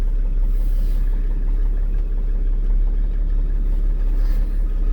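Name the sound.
1995 Mercedes-Benz E300 diesel engine running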